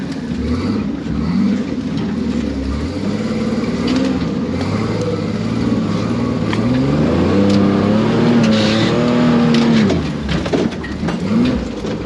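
A 4x4 rock crawling rig drives slowly over rocks, its engine churning in a low, loud drone that rises and falls in pitch as the throttle shifts, with scattered knocks and scrapes and no talking.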